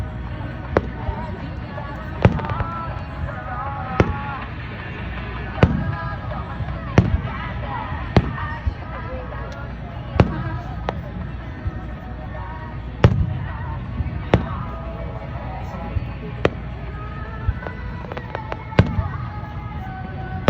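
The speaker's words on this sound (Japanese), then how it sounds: "花火らしい花火だね。" Fireworks display at a summer riverside fireworks festival in Japan, with repeated loud booming bursts every second or two over a dense crackle and steady crowd murmur; people chat nearby.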